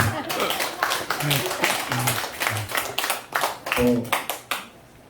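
An audience claps in a burst of applause, mixed with voices and a few brief vocal sounds, fading near the end.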